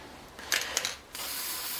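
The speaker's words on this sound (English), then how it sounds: "I'm going to spray a little bit off on the side" Black spray paint can used for spray-paint art gives two quick, faint hissing bursts, then a longer continuous hiss after a short pause.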